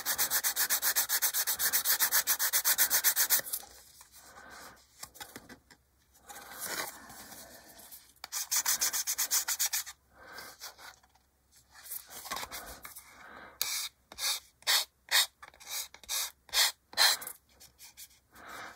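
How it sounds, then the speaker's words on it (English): A plastic part from a 1/48 HK Models B-25J kit is sanded by hand, first as a steady close rasping rub, then as short quick strokes in a rhythmic run. "This plastic is very accepting of being sanded."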